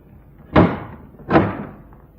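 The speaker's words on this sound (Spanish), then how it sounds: "Bertuccio se inclinó y abrió la puerta del saloncillo." Two heavy wooden thuds of a door in a Spanish radio drama adaptation of The Count of Monte Cristo, spaced under a second apart, close and fairly loud over quiet room tone.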